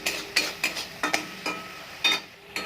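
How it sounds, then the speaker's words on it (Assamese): Chutney ingredients frying in a pan over a high gas flame, with a soft steady sizzle broken by repeated sharp scrapes and clinks of a spoon stirring against the pan, close and fairly quiet. "আৰু মই এইখিনি এনেকৈ ভাজি ল'ম।"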